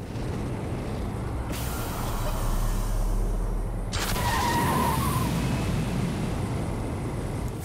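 Loud vehicle engine roar in Saints Row 4 with turbo engaged, a steady, dense rumble that surges as a hissing high layer cuts out and then returns, with a brief whine near the middle.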